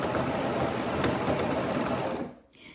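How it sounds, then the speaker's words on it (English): A sewing machine stitches a stretched cuff onto the leg opening of a pair of pants, its fast steady needle hum running close and continuous before stopping abruptly near the end. "as we sew around the leg opening, attaching our cuff to the bottom of our pants"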